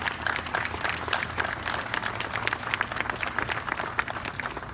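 Audience applause at the World Dairy Expo opening ceremony, a busy, steady patter of many hands clapping that carries on throughout, somewhat distant and moderately loud.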